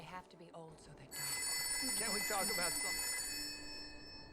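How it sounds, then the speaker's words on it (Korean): A telephone bell rings out loudly and steadily during a dinner gathering, starting after a moment of quiet and continuing under brief speech from diners in a film scene. "그러나 한 통의 전화가 분위기를 얼려버립니다"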